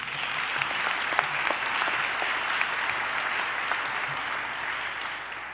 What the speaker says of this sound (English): That's also a moment to clap.